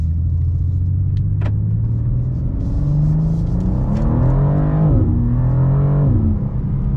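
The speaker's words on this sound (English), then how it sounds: "You guys hear that like boom, boom when it shifts?" A 2024 BMW M2 (G87) engine drones loudly and climbs in pitch in manual mode, with deep thumps as it shifts gears, the revs dropping then rising again.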